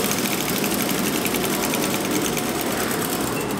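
A sewing machine stitches an invisible zipper in a steady, loud, continuous whir. Its close, even mechanical buzz runs without a break and without talking.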